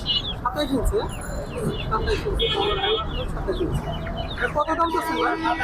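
Chickens cluck and squawk at a crowded post-Eid poultry market in Kaptan Bazar, with several birds calling in irregular bursts under nearby voices and general market chatter.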